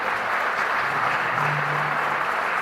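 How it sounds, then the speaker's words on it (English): Steady, full applause from a large crowd at an athletics hall of fame ceremony, continuous and even throughout with no voices standing out. "Let's give a round of applause to thank Ben and Carol."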